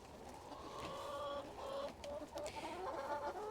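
Several chickens cluck and murmur close by on an allotment plot, a steady overlapping chorus of short calls that continues without any talking.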